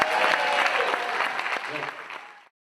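Audience applause at a Guadeloupe music show, a dense wash of clapping that holds steady and then tapers off over a couple of seconds before stopping.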